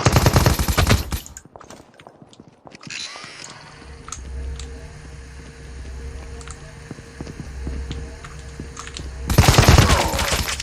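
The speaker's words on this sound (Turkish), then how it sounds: "Niye sıkıyorsun sen bana?" Loud bursts of rapid gunfire in the Call of Duty Mobile video game, one volley at the start and another near the end, with a quieter stretch of ambient game noise and faint pops in between.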